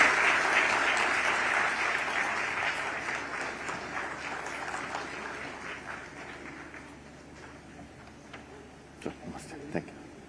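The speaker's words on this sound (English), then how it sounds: "A louder round of applause." Audience applause after a spiritual speaker's session at a wellness event, loud at first and gradually fading over several seconds, ending in a few scattered claps and faint room murmur.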